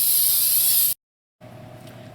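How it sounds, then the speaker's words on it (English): Two short, loud hissing bursts of baking spray go into a bundt pan, separated by a brief silent pause. "baking spray"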